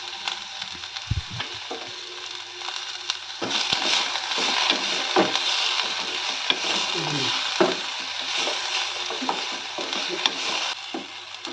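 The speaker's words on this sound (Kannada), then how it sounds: "ಮೆಣಸು, ಬೆಳ್ಳುಳ್ಳಿ ಇದನ್ನೆಲ್ಲ ಹಾಕಿ ಸ್ವಲ್ಪ ಮೀಡಿಯಮ್ ಫ್ಲೇಮಲ್ಲಿ ಸಾಫ್ಟ್ ಆಗುವವರೆಗೆ ಫ್ರೈ ಮಾಡ್ಕೊಳ್ಳೋಣ." Chilies and garlic frying in a pan for beetroot chutney over medium flame, a steady close sizzle broken by scraping stirs and occasional knocks of the spatula against the pan.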